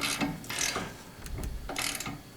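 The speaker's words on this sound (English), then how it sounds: "untighten the nut from the track rod" A ratchet loosens the track rod nut on a Skoda Octavia during wheel carrier removal, giving quick irregular clicking strokes at close range with metallic rattles in between.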